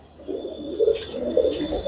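Allahabadi pigeons at a loft in Jaipur give soft, low cooing calls close by, a few rolling coos following one another over a quiet background.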